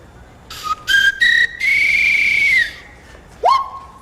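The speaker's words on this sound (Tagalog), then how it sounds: "Mamaya tutugtog po kayo sa pamamagitan ng pito" A loud whistle played in short melodic phrases, several brief notes rising to a long held tone, then a final swooping note.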